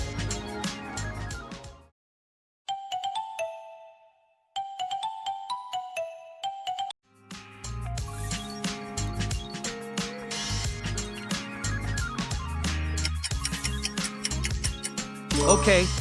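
Lava smartphone ringtone: chiming melodic notes broken by short silences, then swelling into a fuller, denser electronic tune that plays on loudly until the end.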